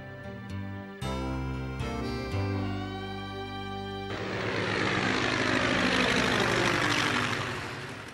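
Under music, a propeller airplane flies overhead in a stunt, its engine drone swelling into a loud, rising roar that then fades slightly.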